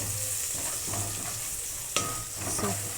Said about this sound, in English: We're going to start frying